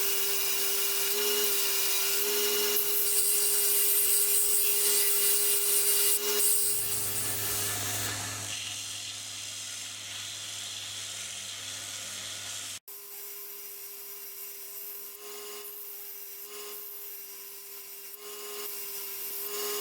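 A belt grinder with a fresh 60 grit belt grinds a 1095 steel knife blade, giving a loud, harsh, continuous rasping whine that drops in pitch midway and then runs on more quietly.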